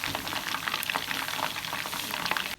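Chicken fries in a pan over a low flame, a dense, close crackling sizzle with constant popping that runs without pause until an abrupt cut at the end.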